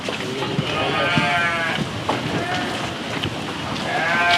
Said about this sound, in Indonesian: Nah, ini domba gede nih